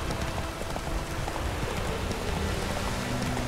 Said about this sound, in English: It's raining. Perfect.